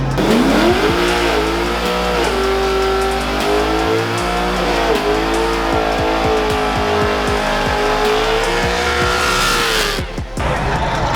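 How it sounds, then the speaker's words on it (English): At a car meet, a car does a burnout with loud, sustained tire squeal over an engine revving hard and wavering in pitch, the screech running almost continuously before cutting off near the end. "Comes Nick, it's about to burn out."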